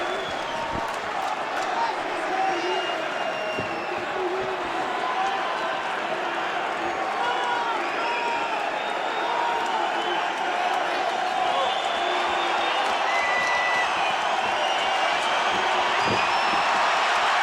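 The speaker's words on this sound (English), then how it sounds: "And the crowd reacts." Arena crowd at the Georges St-Pierre vs Nick Diaz fight, a dense, steady roar of distant cheering and noise with scattered claps and shouts, continuous throughout under talking voices.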